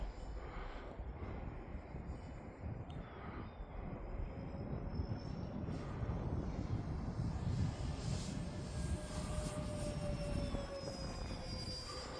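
A Sonic Modell Sea Rescue twin-motor RC plane flying in wind, its steady electric motor whine droning on and swelling slightly as it passes, fairly distant and continuous.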